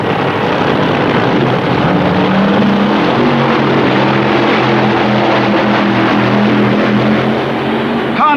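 A 1964 drag racing car with a supercharged Chrysler engine launches down the strip alongside its rival, a loud, sustained engine roar that drones continuously for several seconds without any voices.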